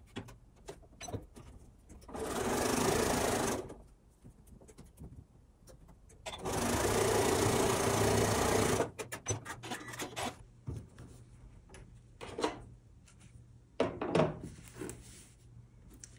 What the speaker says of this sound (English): So we're gonna sew these together